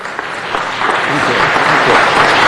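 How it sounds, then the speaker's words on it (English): A city council meeting audience gives a brief round of applause, a steady, fairly loud patter of many hands that builds slightly over its short span. "Let's just give him a brief round of applause"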